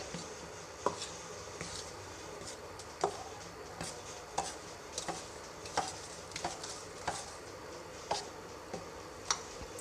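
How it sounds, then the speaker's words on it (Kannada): Powdered sugar is stirred into a Ugadi neem and jaggery mix in a bowl, a spoon tapping and scraping in a steady run of light, close ticks with no talk. "ಇವಾಗ ನಾನು ಇದಕ್ಕೆ ಸಕ್ಕರೆ ಹಿಟ್ಟನ್ನು ಮಿಕ್ಸ್ ಮಾಡ್ಕೊಳ್ತಿದ್ದೀನಿ"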